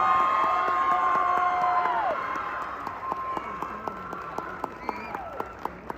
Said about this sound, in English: let's give a round of applause to our amazing teachers